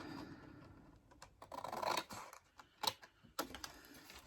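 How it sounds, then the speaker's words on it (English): Quiet, close crisp snipping and rustling of scissors cutting through card for a pocket card, several irregular cuts with faint scraping between. "I'm going to cut it up here"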